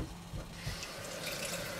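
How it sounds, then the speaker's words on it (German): Water poured into a pot during cauliflower bake preparation, a faint splashing, trickling stream over quiet kitchen background, short and low in level. "Können wir noch ein bisschen Wasser dazu kippen"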